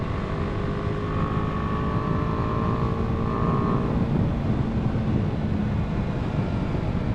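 A 2020 BMW G 310 R motorcycle cruises along, with a steady engine and exhaust drone beneath constant wind rush, and a faint higher tone fading out partway through.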